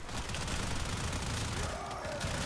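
The Gorgon gun in the Warframe video game fires continuously, a dense and steady stream of rapid gunfire that rattles on throughout without pause.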